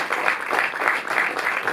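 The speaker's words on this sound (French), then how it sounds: "vous avez Paul Vecchiali devant vous, on pourrait applaudir" A cinema audience at the Cinéma du Panthéon in Paris applauds director Paul Vecchiali. The clapping is brief and steady and comes in soft rhythmic swells.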